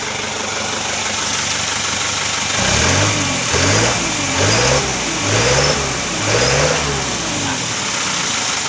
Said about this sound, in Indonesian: Kita coba injak gas.